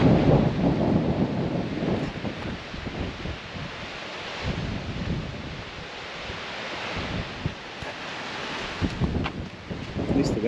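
Steady wind blowing and buffeting the microphone outdoors on a road trip through the Yukon into Alaska, a continuous broadband rush with gusty surges throughout, fairly loud.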